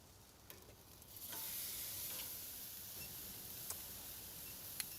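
Steak sizzles quietly on a Fire Magic outdoor grill just after being flipped, a soft continuous hiss with a few faint clicks and ticks scattered through it.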